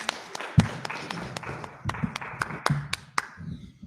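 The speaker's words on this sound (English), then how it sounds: "I don't need your lame applause" Sparse, scattered handclaps from a small crowd at an AEW WrestleDream post-show wrestling press conference, a few sharp individual claps spread irregularly over several seconds in a roomy space.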